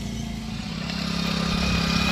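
A motorcycle engine runs with a steady mid-pitched hum that grows slightly louder as it approaches, with no voices.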